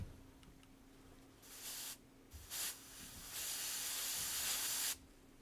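A paint sprayer fires several hissing bursts of spray, short ones at first and then a longer sustained blast before cutting off, loud and close against a quiet background with a faint low hum.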